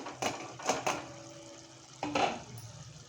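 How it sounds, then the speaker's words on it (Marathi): Metal pot lid being lifted off a simmering pot of sprouted moong gravy in a home kitchen, with a few close clinks and clatters of metal on metal, then a pause and another clink. "1 मिनिटानंतर परत आपण झाकण उघडायचं आहे."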